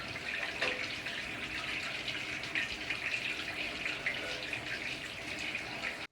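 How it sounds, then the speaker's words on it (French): A shower runs steadily, with water spraying and splashing in a constant broadband hiss for about six seconds before cutting off abruptly, and no voices. "Donc, direction la douche."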